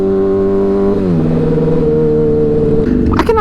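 A Honda CBR600RR's engine holds a loud, steady idle-to-mid rev up close, with a sharp step in pitch and a quick blip of throttle near the end.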